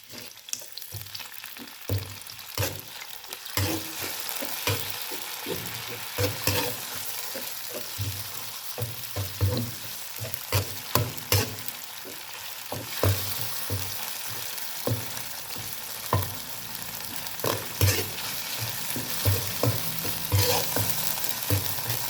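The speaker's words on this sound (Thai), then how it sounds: "ขั้นตอนการผัดเครื่องแกง" Curry paste being stir-fried in a pan, with continuous loud sizzling and repeated scraping and clattering strokes of a spatula against the pan in an uneven rhythm.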